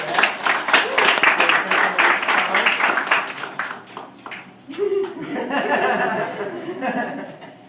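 Audience applause at a karate ceremony, a dense round of clapping with some laughter that fades after about four seconds, then voices talk over a quieter room.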